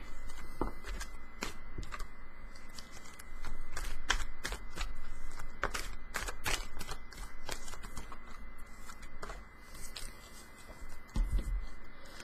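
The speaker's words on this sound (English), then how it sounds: "I'm going to shuffle the cards first, and then we'll reveal them all together." Quick bursts of crisp flicking and riffling as a deck of cards is shuffled before a card reading, in irregular clusters over a faint steady hum.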